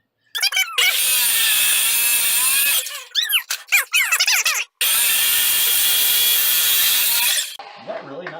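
Loud power saw cutting through metal as it throws sparks, a harsh sustained screech broken by a few brief stops and restarts, then a long grinding pass that ends abruptly, very close with no talking.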